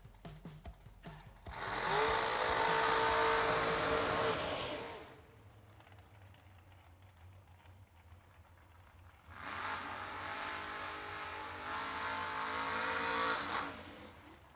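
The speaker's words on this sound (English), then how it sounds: "The burnout's complete." A drag racing car doing a burnout at a New Year Nationals event: two loud, sustained roaring bursts of engine and spinning tires, separated by a quieter lull.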